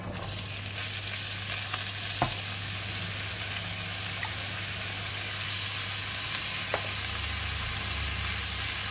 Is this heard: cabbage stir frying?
yes